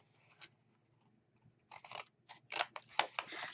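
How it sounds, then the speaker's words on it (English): Scissors cut through paper for a Halloween party box craft, giving a few quiet isolated snips followed by a faster, louder run of crisp crunching cuts. "I'm going to cut these two out."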